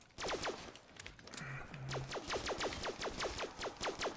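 Handgun fire in the video game Black Ops 3 sounds as a rapid run of sharp, evenly spaced shots over game background noise, with a short pause in the middle and no talking over it.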